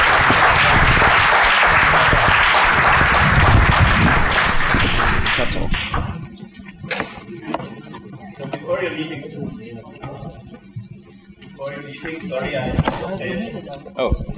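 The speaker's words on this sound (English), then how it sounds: "And now you can applaud." Audience at a European defense policy conference panel breaks into dense, loud applause for about six seconds, then the clapping thins and fades into scattered claps, thuds and room noise.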